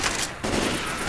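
AK rifle fire in the game Left 4 Dead 2 rattles as a dense, loud burst of rapid shots that fills the moment, with a brief gap partway through.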